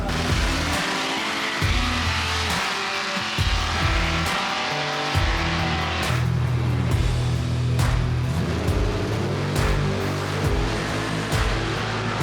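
Drag race cars running hard on a drag strip at a car festival, loud engine roar with rising and falling revs, tire noise and crowd ambience throughout, no talk.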